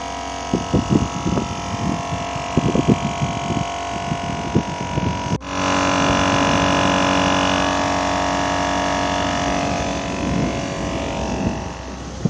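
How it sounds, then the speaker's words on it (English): A 150 PSI portable air pump inflating a car tire runs as a steady, loud mechanical drone that kicks in midway, preceded by intermittent rattling and knocking. "This is a 150 PSI pump."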